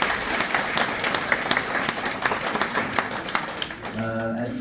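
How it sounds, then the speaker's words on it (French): A church congregation applauds two members, a loud, continuous patter of many hands that fades at the end as a voice begins speaking. "Est-ce qu'on peut encore une fois les applaudir"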